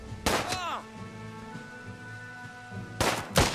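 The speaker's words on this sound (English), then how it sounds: "so we're going to have to shoot him" Gunfire in the turn-based strategy game Last Train Home: a few sharp broadband shots near the start and two more at the end, with quieter game ambience between.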